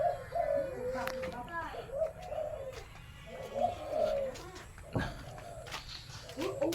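Caged dove (nok khao) cooing in repeated rounded phrases, fairly close, with someone talking over and between the calls and a brief sharp knock partway through.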